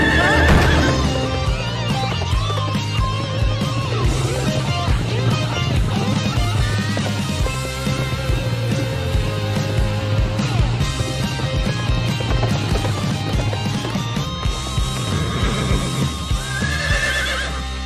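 Horse whinnying and neighing with clip-clopping hooves in a cartoon scene, repeated loud neighs over a busy backdrop of music and effects, no speech.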